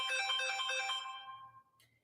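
A mobile phone ringtone plays a bright, melodic electronic tune close by for about a second and a half, then fades out, leaving near silence with a faint trailing chime.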